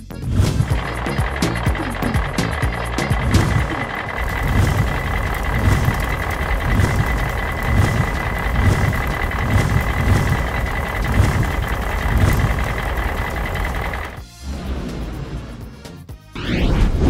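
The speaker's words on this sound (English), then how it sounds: "Scary fire truck." Cartoon fire truck sound effects: a loud rumbling engine with rapid repeating beeps and clanks, then a short quieter stretch before a crashing burst near the end.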